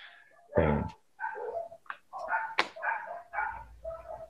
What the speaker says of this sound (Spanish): hay un perro que me está ladrando, hay un perro ladrando a la luna